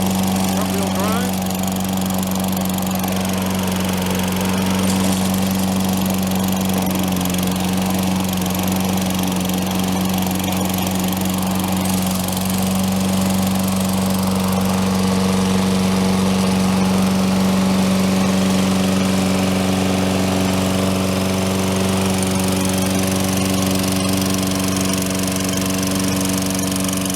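A Toro Recycler lawn mower, model 20072 with front-wheel drive, runs steadily at close range with a loud, constant engine drone that holds throughout without pause.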